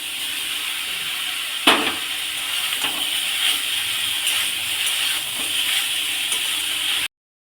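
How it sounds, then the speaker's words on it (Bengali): Fried prawns dropped into a hot pan of oily, spicy yam stalks give a steady, loud sizzling hiss with a few sharp clatters, continuous for several seconds before cutting off abruptly. "ভেজে রাখা চিংড়ি মাছটা এবার দিয়ে দেবো।"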